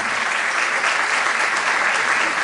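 Dense, loud audience applause greeting a band as they present their CD at a launch concert, an even, unbroken wash of clapping throughout.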